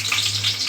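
Bay leaves sizzle in hot oil in a pan, a bright crackling fry that stays steady and close for under a second.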